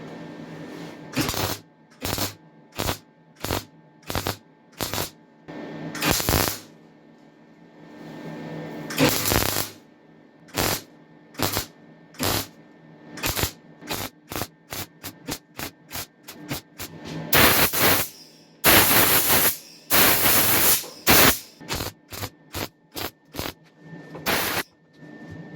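Arc welding on a snow sled repair, the welder blowing holes through the metal: short bursts of crackling buzz start and stop irregularly, some brief and some lasting a second or more, loud and close.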